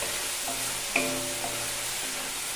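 Vegetables with salt and chilli being stirred in a hot pan: a steady close sizzle with a single sharp spoon clink against the pan, no voices.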